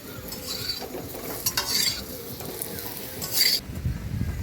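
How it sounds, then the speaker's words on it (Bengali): Potatoes frying in a wok on a home gas stove, stirred with a spatula; close scraping strokes come in bursts over a steady, low sizzle. "আর এইদিকে আমি আলুটা ভাজছিলাম।"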